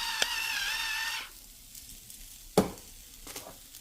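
Mushrooms with ginger and carrot frying in a pan give a bright, steady sizzle that fades after about a second, followed by a few sharp stirring clatters against the pan.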